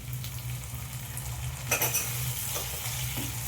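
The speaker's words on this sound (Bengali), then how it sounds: "আমি ভালো করে আদা পেঁয়াজের সাথে টমেটোটা একটু ভেজে নেব" Chopped tomato fries with ginger and onion for a vegetable dal, giving a steady close sizzle with a spoon stirring and scraping against the pan, louder bursts midway, no voices.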